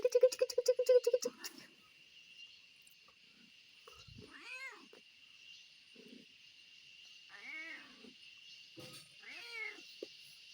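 A domestic mother cat that has just had four kittens meows several times in thin, wavering calls, moderately close, after a short burst of rapid rhythmic clicking, with a steady high insect-like hum running underneath.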